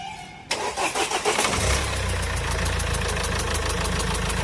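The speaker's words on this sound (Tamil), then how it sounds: "வண்டி ஸ்டார்ட் ஆயிருச்சுங்க." A Mahindra XUV500 SUV engine with a starting fault cranks and catches at about half a second. It settles into a loud, steady idle with a rhythmic knocking pulse, close by and with no voices.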